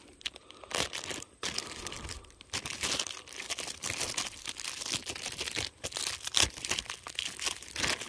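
A plastic baggie holding a Pure Whitetail deer scent product crinkles and rustles steadily while being opened outdoors, close and continuous with short pauses, with no speech.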